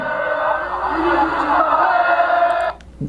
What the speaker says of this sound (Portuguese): tenta ouvir o que estava cantando a torcida do Atlético de Madrid em direção ao Vinícius Júnior antes do jogo